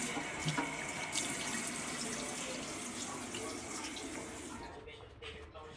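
Tap water runs steadily into a sink to wet a rag, a continuous broadband splashing rush filling the whole clip, easing off slightly near the end.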